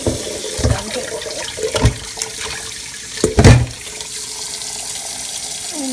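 Tap water runs into a sink while goat meat is washed, with a steady flow and several louder splashing bursts from handling the meat.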